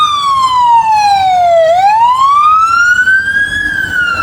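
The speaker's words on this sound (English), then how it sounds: "That's another fire truck" A fire truck siren wails loud and close in a continuous rising-and-falling sweep, its pitch dipping then climbing again, with no voices over it.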